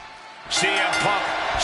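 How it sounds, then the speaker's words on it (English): Virtual arena crowd in the wrestling video game WWE 2K26, set in Chicago: a steady roar of cheering swells up loudly partway through and keeps going, with bursts of impact-like thuds from the match underneath. "And just listen to this crowd here in Chicago."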